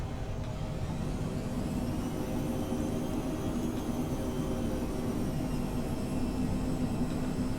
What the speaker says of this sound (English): the aircraft is now descending on the glide